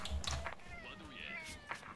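A cat meows in the video game Strike Force 2, a short mewing call heard briefly amid game sounds and a talking voice.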